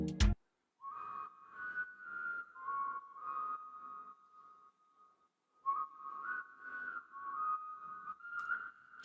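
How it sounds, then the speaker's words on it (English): Melodic whistling drenched in auto-tune pitch correction, synthetic-sounding tone and reverb, with a pulsing, ducking rhythm in an Afrobeat style; it pauses briefly midway, then resumes. "together with all the effects, the whistling sounds like this."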